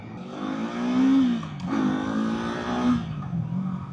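A 2024 Kawasaki Eliminator motorcycle engine revs up and down in smooth swells, close by, with no voices.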